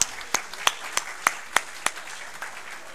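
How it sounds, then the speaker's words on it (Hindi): Sparse audience clapping at a mushaira welcoming a poet to the stage: about eight distinct, evenly spaced claps ringing out in a reverberant hall, fading toward the end. "तालियां होनी चाहिए।"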